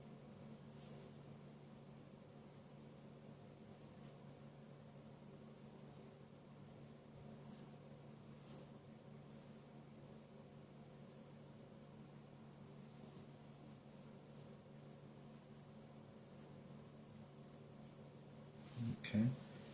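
A pen scratches quietly on paper as a dimensions diagram is sketched by hand, faint continuous strokes over a low steady room hum, ending in a couple of brief louder taps.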